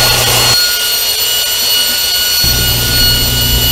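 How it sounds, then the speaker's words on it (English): Loud, continuous whirring roar of a power sander on an end-grain wooden cutting board, with a tonal shift partway through as the pressure or contact changes. "now I'm sanding and then I'll route the edges"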